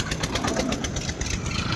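A tractor engine runs steadily at a village fair, its low, throbbing mechanical drone continuous and fairly close, with faint background bustle and no clear speech.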